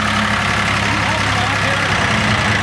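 A 284 diesel tractor idling close by, a steady, loud, low rumble that holds constant throughout, with a voice talking over it.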